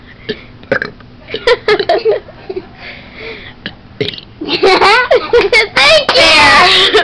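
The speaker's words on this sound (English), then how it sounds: "I think I want you to burp with me when I sing." A person belts out loud, repeated burps in rhythm while singing the ABCs, the belches getting longer and more sustained toward the end, with other voices chiming in between.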